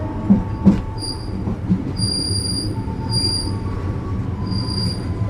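The Sri Tanjung train rolls into Purwosari station, Indonesia, with high, sustained metallic wheel squeals repeating over a low rumble, with a few clanks early on.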